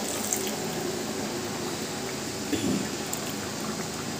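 Hot water poured into a cooking pot, a steady continuous rush of liquid at close range, with a brief louder splash partway through; no talking.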